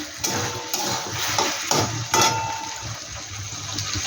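Ginger and garlic frying in a pan for chicken curry, with a close, steady sizzle broken by a few clinks and stirring scrapes and no talk.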